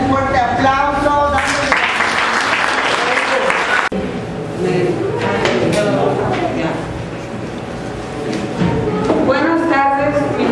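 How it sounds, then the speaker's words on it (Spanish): Steady applause from an audience welcoming a speaker at a support-group gathering, continuous clapping of many hands that keeps going throughout, with voices heard over it near the start and again toward the end. "vamos a brindarle un fuerte aplauso."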